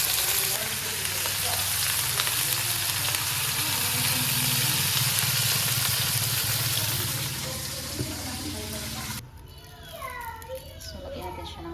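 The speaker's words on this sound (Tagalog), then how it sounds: "So, lagyan natin siya ng Sprite." Sprite is poured into a hot pan of a home-cooked dish, setting off a loud, steady sizzle that sputters on for several seconds before cutting off, with children's voices and chatter in the background.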